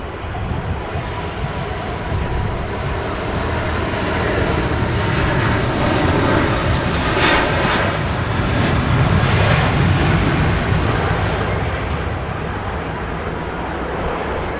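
Emirates Airbus A380 starting its takeoff roll on runway 05 left at Manchester Airport, a steady loud broadband engine roar that swells slightly midway and holds throughout, heard from a distance with no talking.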